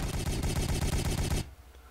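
Rapid automatic gunfire in a turn-based strategy game campaign mission, a loud sustained burst of shots lasting about a second and a half before cutting off abruptly to near silence.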